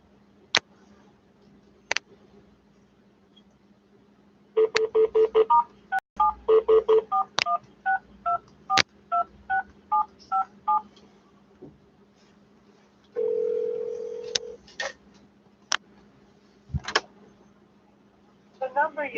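A telephone keypad beeps out a run of DTMF dialing tones, then a steady tone sounds briefly, with scattered clicks and clunks from the handset before and after.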